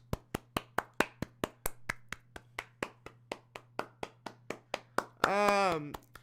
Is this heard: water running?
no